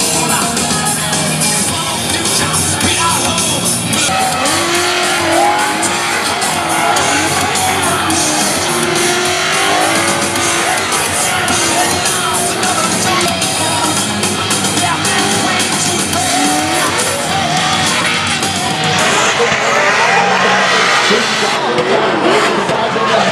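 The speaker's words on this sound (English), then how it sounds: "So let's go check out some drift action." Drift cars at the 2018 Drift Atlanta event, loud continuous tire squeal and engine roar blending into a dense wash of noise, with crowd yells and voices mixed in throughout.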